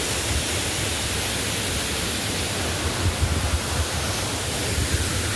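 Sitobo Falls in Tampilisan, a waterfall of clear water, gives a steady, broad rushing roar that stays constant throughout, close and fairly loud, with no voices heard.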